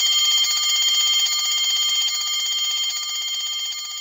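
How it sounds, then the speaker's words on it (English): An electric bell rings continuously inside a glass bell jar, a steady rapid metallic trill, loud and close, fading slightly toward the end with no voices over it. "On pressing the switch, you will be able to hear the bell ringing."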